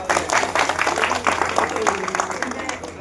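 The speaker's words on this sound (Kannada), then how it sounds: "ಜೋರಾಗಿ ಚಪ್ಪಾಳೆ ಹಾಕುವುದು" Audience at a college Traditional Day honouring selected Agniveer students clapping, a loose spread of applause heard under a person speaking.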